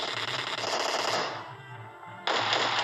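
Shotgun fire in a battle royale video game, a dense, noisy blast that fades out, then a second burst that hits suddenly and loudly near the end.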